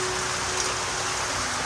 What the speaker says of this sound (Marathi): पाऊस एवढा आला ना की विचारू नका